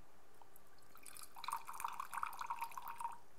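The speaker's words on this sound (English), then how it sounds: "I'm going to pour the unicorn's urine into the middle cup" Liquid poured into the middle of three cups during a children's magic-potion science demonstration; a brief trickling, splashing pour that starts softly and grows for about two seconds, close and quiet, with no speech.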